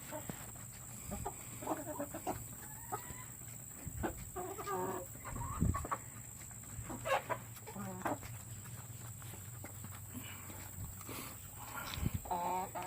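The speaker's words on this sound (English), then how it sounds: "The chickens are coming along just fine." Chickens cluck softly on and off throughout, several birds in an outdoor coop on a hot day, with scattered short calls and faint background hum.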